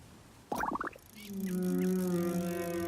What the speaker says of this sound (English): Yes, I hear you, whale.